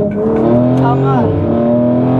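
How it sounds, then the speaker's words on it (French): A small car drifting through a U-turn, its engine rising and falling in pitch with a brief tire squeal, close and loud, while a person talks over it. "Là, tu vois, Cynthia, je te montre comment on fait un demi-tour. En drift"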